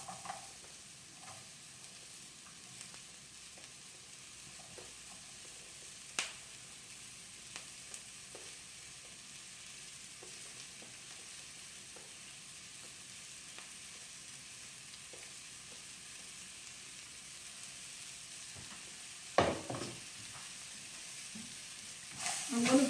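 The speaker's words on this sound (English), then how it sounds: "And then I'm going to go ahead and put my onions." Onions for poha sizzle softly in a pan, with occasional scrapes and clinks of stirring standing out over a long, quiet frying hiss.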